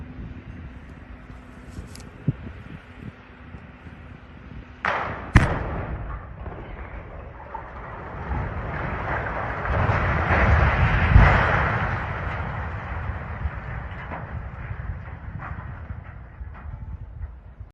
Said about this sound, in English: a series of loud bangs as the latest explosive demolition event took place at the former Teesworks steel facility